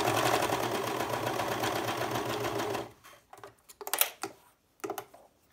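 A sewing machine stitches a triangle gusset seam at a 3/8 inch allowance, running steadily for about three seconds, then stopping into a few short bursts and handling clicks.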